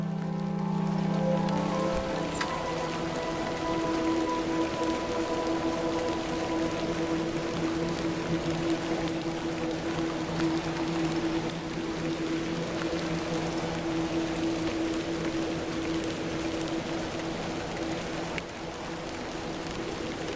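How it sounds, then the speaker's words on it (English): Rain falls steadily in the video game The Excavation of Hob's Barrow, a constant soft patter on surfaces under low sustained ambient music tones, with no speech. "Little rain is no bother."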